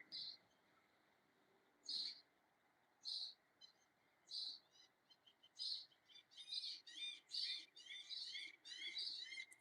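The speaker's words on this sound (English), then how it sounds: "Oh, those are seagulls." Seagulls calling outdoors near water, short, bright cries repeating at irregular intervals that grow quicker and more crowded toward the end, fairly faint over a quiet background.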